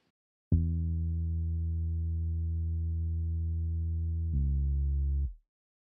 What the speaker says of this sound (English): I have this kind of sub bass that I use in the break.